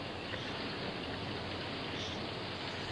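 Steady rain falls in a constant, even hiss of drops at moderate level throughout, with no voices over it.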